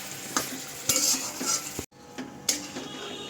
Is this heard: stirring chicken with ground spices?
yes